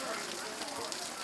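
Rain falls steadily during a Miao New Year village festival in Leishan, a dense, hissing patter filling the space, with voices mixed into the steady wash.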